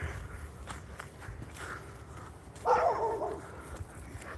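Footsteps shuffle along a walk while a leashed dog nearby gives a short burst of yipping and whimpering partway through.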